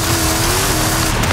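Loud, continuous engine drone of a car driving off-road in Forza Horizon 5, with a steady sustained tone and rumbling tire noise throughout.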